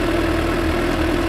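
A 2015 Suzuki GSX-S 750 motorcycle engine idles at about 1200 RPM, a steady, even low hum that is loud and close, with no talk.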